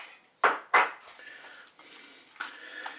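Crab salad is mixed with mayonnaise in a bowl, giving two sharp spoon-on-bowl clinks followed by softer scraping and stirring, then another light knock, all close and without talk.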